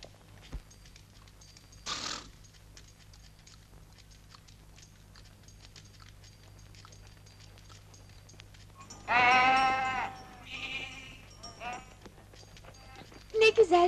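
A flock of sheep bleats in short bursts, mostly faint and distant at first, then a louder, closer cluster of bleats near the end, with quiet chewing and hoof sounds between.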